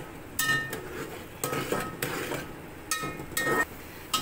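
Beaten eggs being stirred into vegetable egg fried rice in a pan, heard as a few separate clinks and scrapes of a utensil against the metal over a quiet background.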